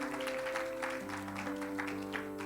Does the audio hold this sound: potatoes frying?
no